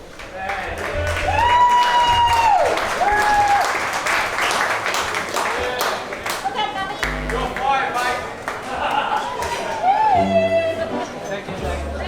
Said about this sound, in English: I would like everyone to give a round of applause to the wedding party